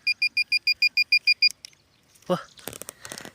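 A handheld metal detector gives about ten fast, evenly spaced electronic beeps, loud and close, then stops, and someone talks in Tamil.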